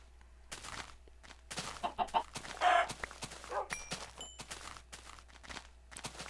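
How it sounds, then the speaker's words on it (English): Chickens cluck and squawk repeatedly in an Ultra Hardcore game, with footsteps in between and several bursts of bird calls at moderate loudness. "Ooh, 2 chickens"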